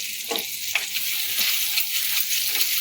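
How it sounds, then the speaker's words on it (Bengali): Butter sizzles and crackles steadily as it melts in a pan for a healthy vegetable pasta soup, with a few soft stirring scrapes cutting through the close, continuous frying hiss. "আজকে আমি একটু বাটার দিয়ে করব অল্প একটুখানি বাটার দিয়ে দিলাম"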